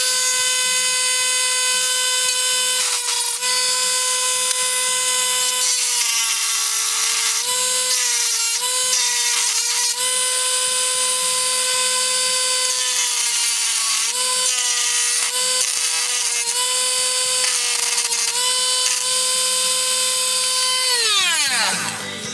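A power drill with a bit in the chuck spins at high speed for a long stretch. Its whine is loud and close, the pitch shifts slightly, and it winds down at the end.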